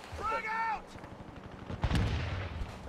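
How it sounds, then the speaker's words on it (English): Gunfire in a battle royale video game match, a short burst of distant shots under players' voices and game sounds. "I'm getting shot at from some other side too"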